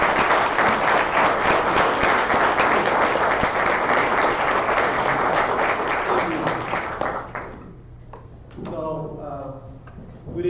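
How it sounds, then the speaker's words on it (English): Loud, dense applause from a large crowd at an annual general membership meeting fills most of the stretch, then fades out, leaving a voice beginning to speak near the end. "give her another round of applause"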